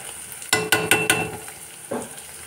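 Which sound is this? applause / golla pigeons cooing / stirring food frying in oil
stirring food frying in oil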